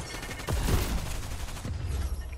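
Rapid bursts of video game gunfire in a 3v3 shooter match, a quick volley of cracking shots up close and loud, fading into lighter pops with a faint hum behind.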